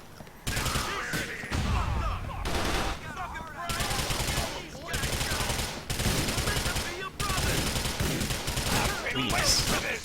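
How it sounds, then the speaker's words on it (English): Rapid SMG gunfire in a video game, loud sustained automatic bursts with brief gaps, firing nearly continuously throughout amid busy mechanical game sounds. "there's guys shooting at them with an SMG"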